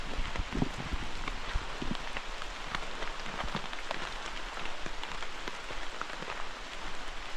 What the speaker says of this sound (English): it's raining out, so it's not that hot